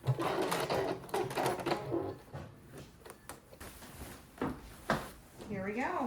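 Sewing machine stitching the second side seam of a skirt with magenta thread, heard as bursts of rapid mechanical whirring that start and stop, with a person talking over part of it.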